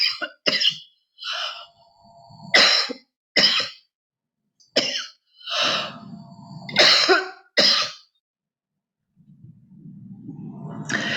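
One person coughs and clears their throat in a string of short, sharp bursts at an irregular rhythm, close and fairly loud, followed by a low rumbling noise near the end.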